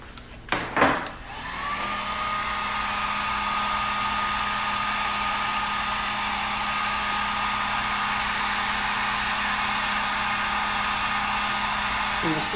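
Hair dryer blowing steadily to heat a WoodUBend moulding, starting with a few clicks and bumps before settling into a loud, constant whoosh with a faint whine that runs through to the end.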